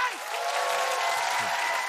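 A studio audience at a Korean comedy show claps in a steady wash of applause, with voices shouting over it.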